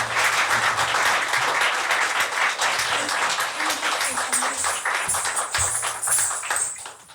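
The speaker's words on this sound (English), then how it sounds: "Big round of applause once again." Audience applause fills the room after a Bharatanatyam dance performance, a steady dense clapping that runs loud throughout and tapers off at the end, with faint voices underneath.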